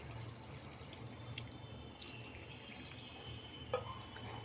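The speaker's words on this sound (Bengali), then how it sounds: "প্রথমেই দিয়ে দিচ্ছি পরিমাণ মতো জল" Water is poured into a bowl for a potato bati chorchori, a faint, steady trickle and splash in a quiet kitchen with one small clink near the end.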